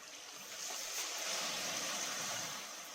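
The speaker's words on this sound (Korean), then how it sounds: "그래도 파도 소리 많이 들리네" Waves wash steadily onto a pebble beach, a broad hissing surge that swells and recedes, heard alone without voices.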